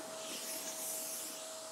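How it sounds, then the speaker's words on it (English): A vacuum cleaner switched on to clean a rug gives a steady, loud, close whine with a constant high tone and airy hiss throughout. "I will turn on the vacuum with this power button, and it's really loud."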